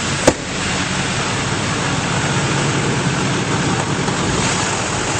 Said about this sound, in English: Starter up and it fires right up.